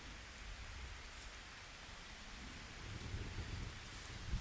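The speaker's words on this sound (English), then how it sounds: "It's raining, guys." Steady rain falls across an arrowroot farm field, a dense, even hiss close by with a slightly heavier patter building toward the end, and no voices.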